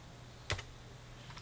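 A few quick keystrokes on a computer keyboard while entering a number in drawing software, a short close cluster of clicks against a quiet room background.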